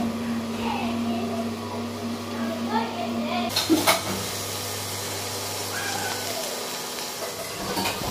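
Bottle gourd peel frying and being stirred in a pan, a steady hissing sizzle with a louder scraping burst partway through, and a voice talking over it.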